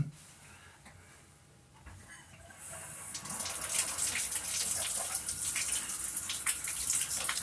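Shower water running steadily, starting quieter and swelling to a loud, continuous hiss of spray that fills the space after a few seconds, with no voices.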